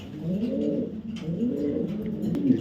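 Racing pigeons of foreign bloodlines coo in a low, rolling, continuous murmur, several birds overlapping close by with steady loudness and no talk.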